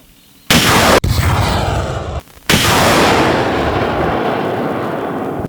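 Two loud blasts in quick succession from a Partyzan multiple rocket launcher, each followed by a long, heavy roaring whoosh that slowly fades, close and powerful.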